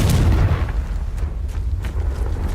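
In Hogwarts Legacy, the Confringo fire spell sets off a loud, deep booming blast that rolls into a rumbling, crackling tail with a few faint pops.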